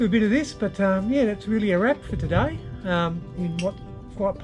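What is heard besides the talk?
No everyday noises stand out.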